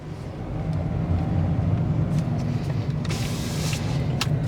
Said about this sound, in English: You do have some road noise with this type of tire, so that is to be expected